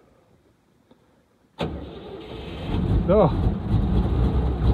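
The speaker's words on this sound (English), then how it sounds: "Started straight up more or less once it got fuel." A Unimog 404 that had been sitting outside for a long time cranks briefly, then its engine catches and runs, settling into a rough, loud idle close by; a man briefly exclaims as it fires.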